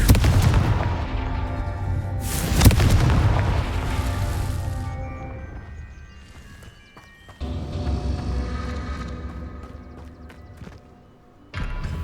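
In Hogwarts Legacy, the Confringo blasting spell erupts in a loud booming explosion over continuous rumbling game action and music, followed by further blasts and clatter.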